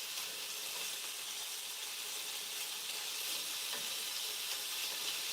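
Pork searing in a hot pan, a loud, steady close sizzle with a few faint stirring ticks and no break throughout.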